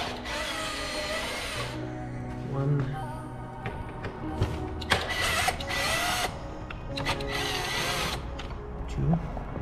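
A power driver spins out the lower fairing screws of an Aprilia RS 660 motorcycle in several short whirring bursts, close by, with a person speaking in between.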